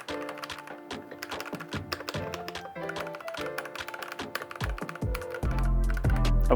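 Keys clatter on a Corsair K65 Plus wireless keyboard in quick, irregular bursts of close, crisp taps, with a heavier low thump building near the end.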